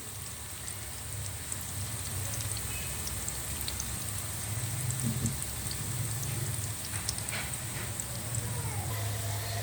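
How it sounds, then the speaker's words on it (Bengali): Noodle pakoras deep-frying in hot oil: a continuous, dense crackling sizzle that stays steady throughout, close by and without talk. "এখন আমি এপিট এপিটুপিট লাল করে তারপর ভেজে নেব পাকোড়াগুলিকে"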